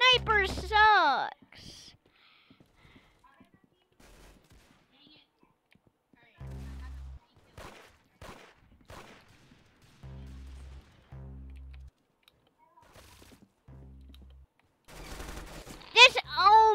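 Sniper rifle shots in the Roblox shooter Arsenal, several short sharp low bursts spaced across the stretch, with a burst of louder gunfire near the end and a person talking in between.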